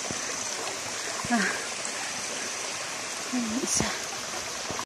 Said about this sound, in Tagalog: Ito na yung isang falls.